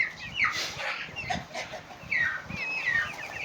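Young chickens cluck and cheep around a barnyard, with a few higher squeaky calls from a juvenile crested rooster, moderately close amid faint background noise.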